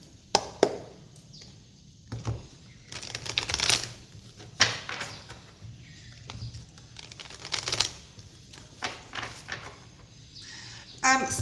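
A deck of Wisdom of the Oracle cards is shuffled by hand, producing repeated crisp riffles and soft slaps in irregular bursts, close and fairly quiet, with a faint voice in the background.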